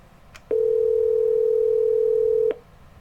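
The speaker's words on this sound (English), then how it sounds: "you'll press the message button, whether it's lit or not" A desk phone's keypad, pressed on the voicemail message button, gives a single clean electronic tone that holds steadily for about two seconds over quiet room noise, then stops.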